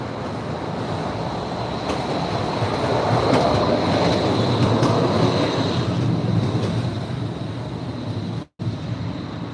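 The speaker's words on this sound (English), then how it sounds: "And another streetcar is coming by." A streetcar in San Francisco's Nob Hill rolls past close by, a steady rumble of wheels on rail with faint clatter and a thin high squeal that swells mid-pass and fades near the end.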